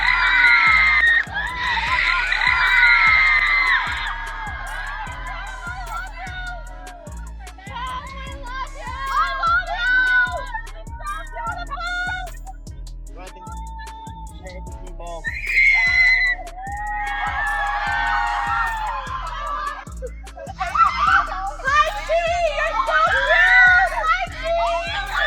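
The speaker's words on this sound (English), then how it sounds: "fans screaming, cameras flashing" Fans in a crowd at a mall scream and shout loudly in overlapping bursts, with children's voices and talking mixed through the steady noise of the crowd.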